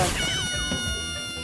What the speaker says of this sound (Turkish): tatlı kedi, cici kedi, tatlı kedi, cici kedi, cici Alice